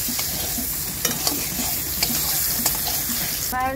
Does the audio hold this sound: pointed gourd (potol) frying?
yes